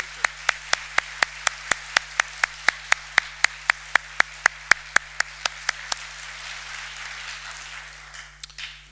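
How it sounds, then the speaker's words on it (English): Sparse, evenly spaced claps ring out at a ceremony hall during a criminology symposium opening, welcoming prize winners. The sharp, distinct hand claps come several per second over a low room murmur and thin out after about six seconds. "join me in a welcome applaud for this year's winners of the Stockholm Prize in Criminology"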